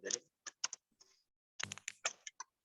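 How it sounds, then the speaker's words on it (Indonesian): Fingers type on a computer keyboard during an online meeting, irregular bursts of close clicky keystrokes with short pauses between them, and no voices. "Lagi mengetik sepertinya."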